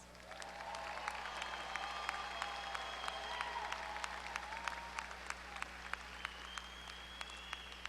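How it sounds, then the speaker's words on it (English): Steady applause from a large audience at a Texas A&M–Corpus Christi spring commencement, greeting new alumni; dense, continuous clapping fills the whole stretch with sharp individual claps standing out and a faint tonal hum beneath. "Everyone, let's give these new alumni a round of applause."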